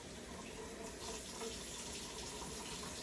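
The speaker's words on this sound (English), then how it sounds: "let me wash this off" Kitchen tap water running steadily into a sink while something is washed off during home cooking, a continuous soft hiss and splash with no speech.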